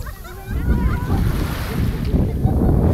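Ocean surf washing in steadily during a group meditation, with a continuous broad wash of waves and wind swelling from about half a second on and staying loud throughout.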